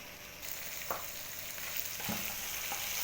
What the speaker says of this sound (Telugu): ఇలా కలిపేసి కొంచెంసేపు మూత పెట్టేసి మగ్గనివ్వాలి.